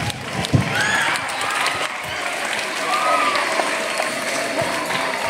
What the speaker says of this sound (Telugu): Please claps loudly.